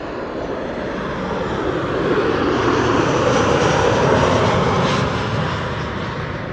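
Airliner arriving on runway 06, the Kaagbaan, at Amsterdam Schiphol, its engines a loud, steady roar that swells toward the middle and eases slightly at the end, heard without voices.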